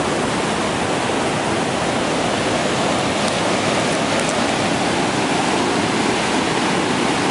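A small waterfall beside a hiking trail gives a steady, loud, broadband rushing roar of falling water, close by and unbroken throughout, with no voices over it.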